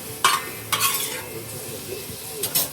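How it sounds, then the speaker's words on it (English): Oil with sausage and hot sauce sizzles in a Matador pan on a Recteq Bullseye Deluxe grill, punctuated by three scraping stirs of a metal utensil against the pan. "Get that oil mixed up in there."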